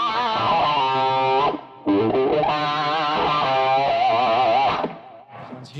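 Electric guitar with a Dunlop auto-wah effect, playing distorted phrases whose sweeping, vowel-like filter swells move through held notes, loud and close, with a brief gap partway through.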